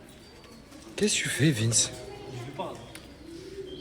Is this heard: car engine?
no